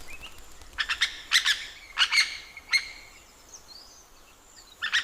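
A superb lyrebird of Australia calls in bursts of loud, sharp chirps and squawks, clustered notes separated by short pauses, clear and fairly close over a quiet forest background.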